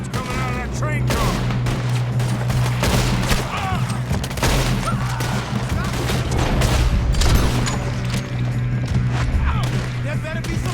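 Gunfire from train guards during a train robbery in the Red Dead Redemption 2 video game, dense repeated shots crackling over a constant low rumble of the moving train, with voices talking throughout.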